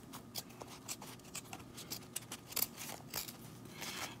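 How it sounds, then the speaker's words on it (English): Scissors trimming excess fabric from around an embroidery hoop, a series of quiet, crisp snips and rustling cuts close by, with no voice over them. "we're just gonna take scissors and trim off all this excess fabric"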